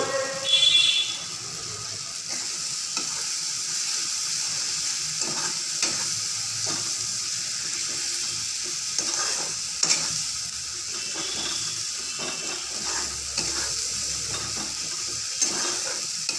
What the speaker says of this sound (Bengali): ভালো করে মশলাটাকে কষিয়ে নিচ্ছি। দেখুন মশলা থেকে তেল বার হয়ে আসছে।